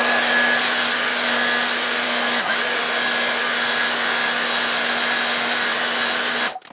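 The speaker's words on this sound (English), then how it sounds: "We can use a heat gun, that helps a lot. It's, by the way, for the hair, so it's not that hot" A hair dryer, used in place of a heat gun to dry glue, blows with a loud, steady whirring hum that holds for several seconds before switching off at the end.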